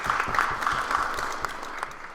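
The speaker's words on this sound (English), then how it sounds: "I think she deserves another round of applause." Debate audience applause, a steady crackle of many clapping hands filling a hall for a couple of seconds at moderate loudness.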